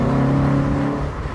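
A Honda EM1 Civic Si engine runs with its Skunk 2 exhaust removed. It gives a steady, close hum with firm low tones and a smooth whirring edge, holding an even note throughout.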